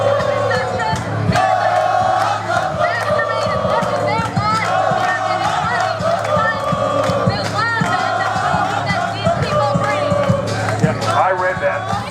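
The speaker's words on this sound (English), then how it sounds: "We're going to be closer to the crowd so it kind of catches the volume." Crowd noise at a live college sporting event, with a dense, loud roar of many voices, shouts and cheering that runs steadily throughout, with nearby speech mixed in.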